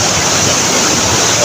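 Water rushes steadily through Calinawan Cave, a loud, dense, unbroken roar with no pauses or other sounds.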